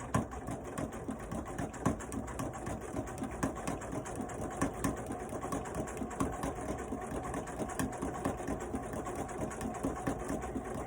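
A sewing machine stitching a pillow runs steadily at close range, its rapid rhythmic needle clatter and motor hum continuous and fairly quiet, with no voices.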